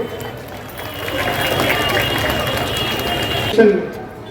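Crowd at an election campaign rally in Mumbra Bazar applauds and cheers to welcome candidate Najeeb Mulla, a dense, steady wash of clapping and voices that swells slightly near the end.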